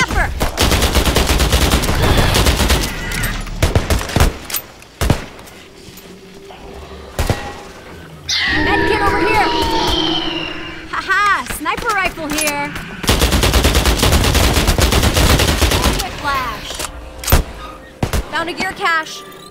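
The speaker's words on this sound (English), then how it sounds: "Combat rifle here!" Full-auto combat rifle fire rattles in repeated loud bursts during video game combat, broken by short pauses and other game effects, with voices talking in between.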